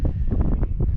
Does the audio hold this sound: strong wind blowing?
yes